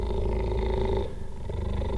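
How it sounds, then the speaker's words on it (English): A pet cheetah kept in a house purrs in a close, loud, rumbling drone with a steady pulsing rhythm. The purr dips briefly and then continues, and no one talks over it. "Gotta love that purr."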